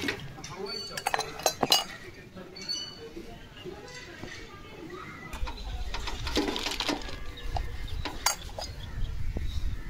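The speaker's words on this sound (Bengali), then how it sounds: "নাট দুটো খুলে পাইপটা খোলা হবে।" Two nuts are loosened to detach the pipe of a Whirlpool air conditioner that is not cooling: scattered metallic tool clinks and taps, close by, come intermittently under ongoing talk.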